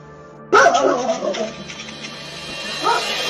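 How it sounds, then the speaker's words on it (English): Two dogs rush at a mail carrier, caught on a doorbell camera: a sudden burst of loud, close barking and yipping, then a quieter stretch and one more short bark near the end. "CCTV footage captured two dogs rushing towards a mail carrier"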